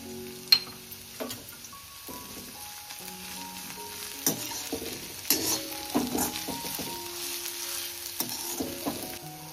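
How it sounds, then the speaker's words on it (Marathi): Ginger, garlic and chilli paste fries in a pan while being stirred, giving a continuous close sizzle broken by repeated scraping and clinking strokes of the spatula, with no voices. "चला आता आपण अद्रक लसूण मिरची पेस्ट टाकून घेऊ"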